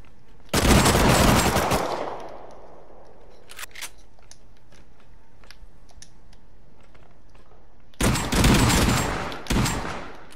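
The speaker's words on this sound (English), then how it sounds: "I pushed him and I shotgunned him" Shotgun blasts in a first-person video game: a loud, sharp burst with a decaying tail, a quieter stretch of scattered clicks, then two more close, heavy shots near the end.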